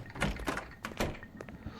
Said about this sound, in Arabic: نفتح هذا الباب